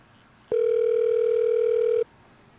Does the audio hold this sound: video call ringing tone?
yes